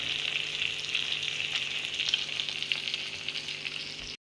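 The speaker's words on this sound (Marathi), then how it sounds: "दुसऱ्या साईडला आपण आता फ्राय करायला टाकलंय" Fish frying in a little oil until crisp, one side already browned as the pan sizzles with a steady, close, bright crackle and scattered pops for about four seconds, with no talking.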